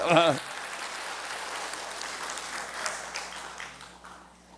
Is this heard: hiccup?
no